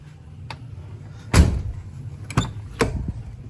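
Rear passenger door of a Toyota HJ61 handled up close: a sharp clunk, then two lighter knocks and latch clicks, with quiet hum between.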